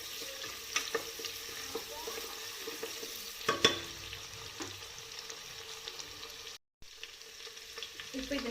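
Chopped tomato sautés in a pan with a soft, continuous frying hiss, quiet and close, broken by a few faint stirring scrapes and a brief dropout near the end.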